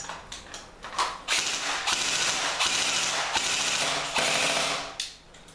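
Ares Amoeba M4 airsoft guns fire BBs in rapid bursts, a loud mechanical rattling chatter that starts with a few short clicks and then runs in sustained volleys before cutting off.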